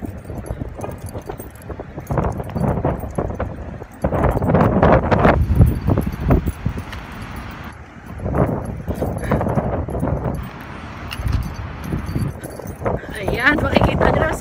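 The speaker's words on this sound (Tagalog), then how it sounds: "Ay, sobrang hangin." Strong gusts roar and buffet against the microphone in rushing bursts, with rustling and clattering debris underneath.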